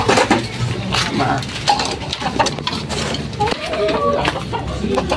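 Gamefowl hens cluck in short, irregular bursts close by in a backyard, mixed with other farmyard noise and a person talking intermittently.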